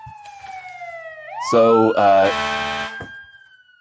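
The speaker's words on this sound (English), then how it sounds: "There's the siren." A loud siren sound effect with a wailing, rising tone marks a food truck segment on a talk show, sweeping up and holding steady before fading, with a short spoken word briefly under it.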